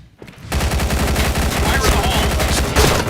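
Rapid gunfire from the online shooter game Point Blank, a dense, continuous burst of repeated shots right up close that starts after a brief quiet moment and keeps firing steadily to the end.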